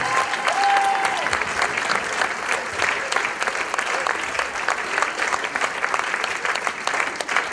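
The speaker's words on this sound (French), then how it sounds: "Merci de vos applaudissements très chaleureux." Dense, steady audience applause fills a concert hall in Euville Carrières at a show by the OAE association with a guest beatboxer, the clapping loud and sustained throughout.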